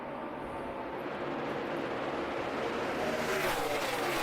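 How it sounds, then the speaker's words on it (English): A NASCAR stock car accelerates during a race at Homestead-Miami, a steady broadband engine roar that swells slightly louder toward the end, with no talk. "Here's Kyle Busch jumping back in the throttle."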